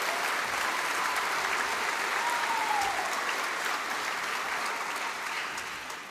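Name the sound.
applause at graduation ceremony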